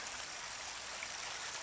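San Pablo Creek flows through a small stretch of thick forest near a reservoir, giving a steady, even rush of running water, faint and continuous throughout with no other sounds or voices.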